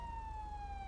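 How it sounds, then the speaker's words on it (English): Police car siren in a GTA roleplay game, a steady high electronic wail sliding slowly downward in pitch, loud and close, with a low rumbling engine underneath and no speech. "I know you see the lights and sirens, sir."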